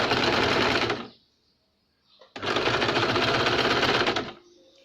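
A sewing machine stitches a double katori blouse in two loud, steady runs separated by a brief pause, the motor whirring close by before it winds down to a faint hum.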